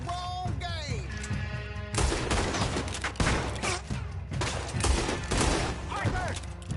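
Dense gunfire from the video game Red Dead Redemption 2: rapid overlapping shots and a loud fusillade, with a frantic game voice shouting in between and a whooshing sweep early on.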